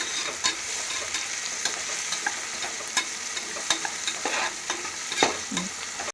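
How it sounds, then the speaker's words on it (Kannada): Onions frying in a pan until golden brown for chicken biryani, a steady close sizzle with occasional scraping stirs and soft clinks, no voices. "ಇಲ್ಲಿ ಈರುಳ್ಳಿ ಚೆನ್ನಾಗಿ ಗೋಲ್ಡನ್ ಬ್ರೌನ್ ಕಲರ್ ಬರೋವರೆಗೂ ಫ್ರೈ ಮಾಡ್ಕೊಬೇಕು."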